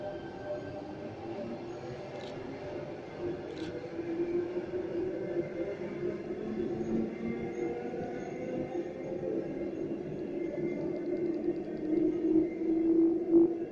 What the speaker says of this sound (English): Waratah arriving into platform number one here at Macquarie Park.